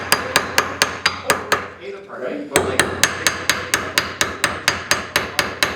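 Steady rhythmic hammer taps on the seized, rusty bottom cup of a coilover, about three per second, close and sharp with a metallic ring, a brief pause near the middle before the even tapping resumes.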